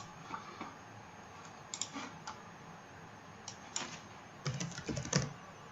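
Keystrokes on a computer keyboard while entering text into a game-engine editor, arriving in short bursts of quick clicks with pauses between them, close and fairly quiet, with no voices.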